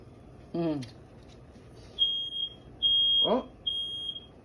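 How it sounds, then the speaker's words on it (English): A smoke alarm emits shrill, high-pitched beeps in repeated bursts, while a person talks briefly before and under the alarm. "There goes the smoke detector."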